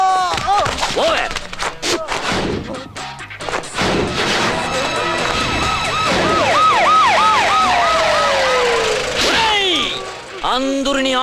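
An ambulance siren wails loudly and close in a Tamil film scene, its rising and falling tone cycling rapidly for several seconds after a crash, with shouting voices around it.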